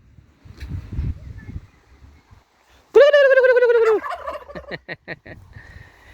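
Turkeys gobble loudly at close range in a rapid, warbling burst, followed by several shorter clipped calls, with people talking and laughing faintly beforehand.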